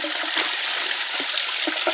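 Water rushing quickly into a micro hydro inlet after storms, a close continuous splashing gurgle with a bright, hissy steady flow.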